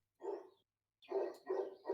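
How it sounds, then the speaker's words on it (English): A dog barks nearby in short, clear bursts: one bark, a pause, then three quick barks in a row. No voices are heard. "Sorry about the dog barking."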